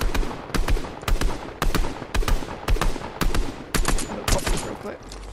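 Gunfire in a Fortnite match, a regular series of loud sharp shots, about two per second, each ringing out clearly over a low game background.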